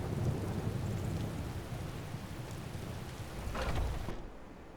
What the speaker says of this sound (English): Wow, this is a nasty storm.